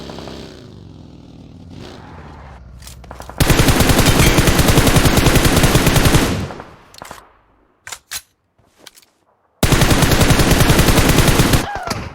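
Automatic gunfire in the mobile battle royale game PUBG Mobile, loud sustained bursts of rapid shots, a long spray followed by a few scattered single shots and then another long burst, with no talk over it.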